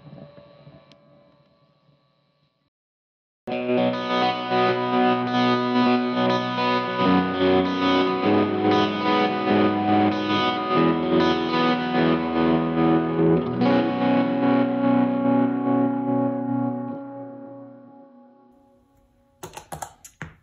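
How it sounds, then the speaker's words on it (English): Electric guitar run through overdrive and a hall reverb pedal, starting quiet, then a loud sustained driven chord swell that holds for about fourteen seconds before fading into a long reverb tail, with no voices. "Let's hear that with a little bit more drive, and I'll go ahead and turn on my hall reverb."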